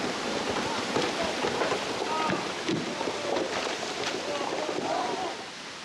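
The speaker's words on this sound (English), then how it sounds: "the rain continues in torrents" Heavy torrential rain pours down in a steady, dense roar on a mountain road in Bhutan, with a voice talking faintly beneath the downpour.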